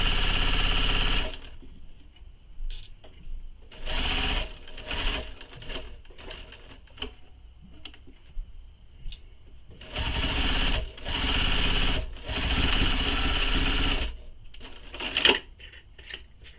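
A sewing machine stitching the top of a handbag pocket, with several bursts of fast rhythmic whirring separated by quiet pauses, close and fairly loud.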